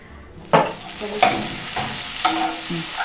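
Onion pieces frying in a pan with eggplant pâté nearby, sizzling softly while a spatula scrapes and stirs in four or five distinct strokes.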